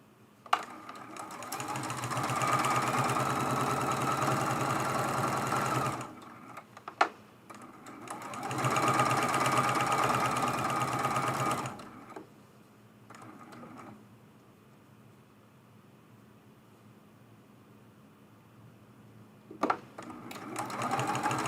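A sewing machine stitches a quilt seam on a quilt-as-you-go table runner, running in two long steady whirring bursts with brief stops, then quieter handling and clicks.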